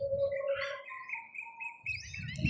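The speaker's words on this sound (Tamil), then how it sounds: "இங்கே பாருங்கள் பறவைகள் அழகாக." Birds calling in a mangrove wetland at Nachchikuda, with repeated chirps and thin whistled notes over low rumbling background noise, fairly close and moderately loud.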